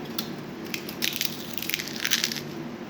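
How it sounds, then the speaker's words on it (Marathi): Crispy fried potato chips are crushed or broken close up, giving a run of dry, brittle crackles and crunches over a faint background hiss. "कुरकुरीत असा आवाज येतो"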